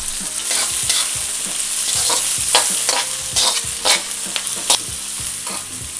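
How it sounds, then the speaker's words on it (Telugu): Onions sizzle steadily in hot oil for a methi chicken fry, with sharp spatula scrapes and clacks against the pan repeating every half second or so over the constant loud frying hiss. "ఆయిల్ వేడైందండి, ఆనియన్స్ వేసుకున్నాము"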